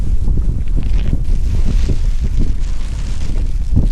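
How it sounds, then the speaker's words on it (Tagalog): Strong wind roars steadily across the microphone, buffeting with low rumbling gusts throughout, no voices heard. "Ang lakas ng hangin."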